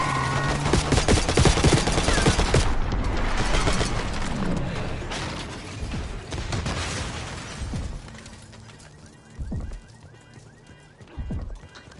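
Gunfire during a street shootout against a limo in Black Ops 6: loud, dense bursts of shots and chaotic action noise at the start, thinning out to a few isolated sharp cracks later on.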